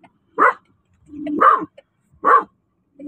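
A golden retriever barks at another dog outside, giving three loud, close woofs spaced about a second apart, with a low whine or growl between them and a fourth bark starting at the end.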